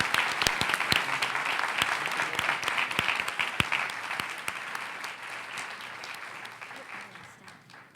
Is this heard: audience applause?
yes